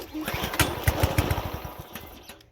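A cheap petrol lawn mower bought at Bunnings sputters under a pull start, its engine popping in an uneven chugging rhythm that fades toward the end, loud and close.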